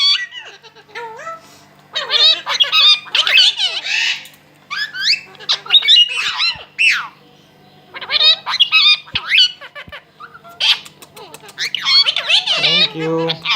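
Close, loud squawks and chattering, voice-like warbles from an Indian Ringneck or Pahari parrot in a talking contest, coming in uneven bursts separated by short gaps.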